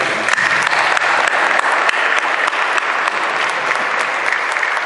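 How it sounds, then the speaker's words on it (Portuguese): Sustained, dense applause from an audience at a formal anniversary ceremony honouring members, steady and loud throughout with no pauses. "mais uma salva de palmas, por favor"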